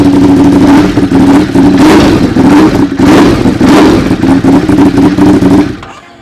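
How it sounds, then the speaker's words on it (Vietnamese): Ducati motorcycle engine, from a 2021 Ducati 821 comparison, revving loudly and continuously up close with a steady throbbing idle and repeated throttle blips, then cutting off abruptly near the end. "qua đề máy cho anh em nghe"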